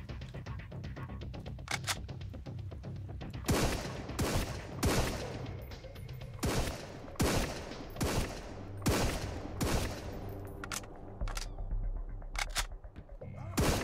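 Enemy gunfire in the video game Sunkenland crackles in sharp bursts, a string of loud, closely spaced shots with short gaps between volleys, heard with no talking.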